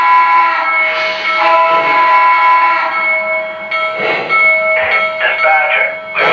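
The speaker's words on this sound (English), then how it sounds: "the locomotive will actually start moving" A Lionel Legacy Alton Limited 4-6-2 Pacific model locomotive starts to move while its steady ringing bell and soft rolling rumble play close by, and a voice talks over it.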